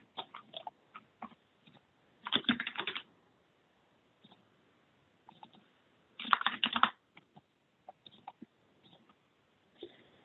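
Someone types on a computer keyboard while entering recipe ingredients, with scattered single keystrokes and two brief dense flurries of clicking, close and fairly quiet.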